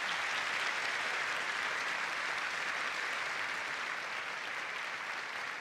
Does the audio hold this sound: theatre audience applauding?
yes